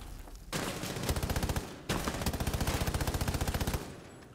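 Sustained automatic gunfire in Rainbow Six Siege, the operator Ash wallbanging through a wall: two long bursts of rapid, evenly spaced loud shots, separated by a brief pause, close and dominant with no talk.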